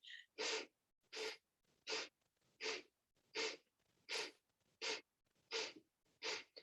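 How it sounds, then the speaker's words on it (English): Rapid yoga breath-of-fire breathing: about a dozen sharp, forceful nasal exhales in a steady rhythm roughly every half second, close and clear with soft inhales between, no talking. "And then we're going to begin a breath of fire. So inhale and then exhale."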